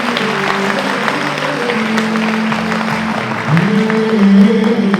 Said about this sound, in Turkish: hocamız Mahmut Emin'i alkışlarınızla, dualar ve tebriklerinize sahneye davet ediyorum